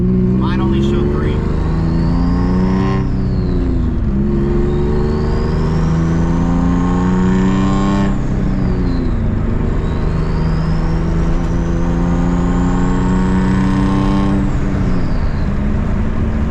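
A Nissan 350Z engine revs in repeated rising sweeps that climb in pitch, drop off, and climb again, loud and close, with a constant engine drone underneath.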